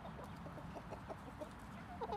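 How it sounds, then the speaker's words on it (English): Hens in a hen house housing about 40 egg-laying chickens cluck softly and intermittently over a low background rumble, with a few sharper clucks at the end. "Yep. The chicken."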